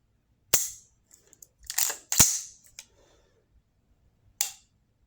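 A Partisan Disruptor forced-reset trigger on a rifle set to semi gives a few sharp, isolated clicks as it breaks and resets, close up against near silence.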